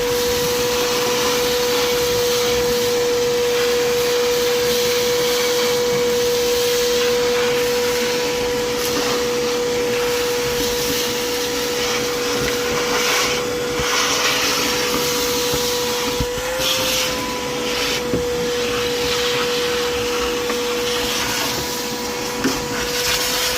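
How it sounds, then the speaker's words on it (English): Vacuum cleaner running while cleaning out a Massey 860 combine, a steady loud whine with a constant tone, occasional knocks and shifts as the nozzle moves around. "get the vacuum going and clean her all up"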